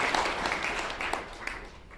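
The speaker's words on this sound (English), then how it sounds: "Round of applause for you guys" Audience applause at a live business talk, a fairly faint, steady patter of clapping from a crowd that holds evenly before thinning slightly toward the end.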